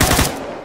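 Video game gunfire from a Minecraft gun mod: a short loud burst of two or three rapid shots that cuts off into a fading tail, with no voices.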